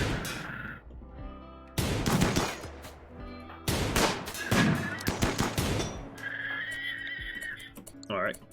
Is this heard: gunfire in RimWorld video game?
yes